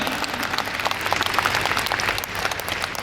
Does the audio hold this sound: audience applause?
yes